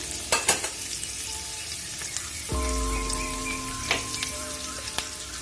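Onions cooking in a pan for a Tamil cassava stir-fry, with a steady sizzle that grows louder partway through and a few sharp clinks and spoon taps on top.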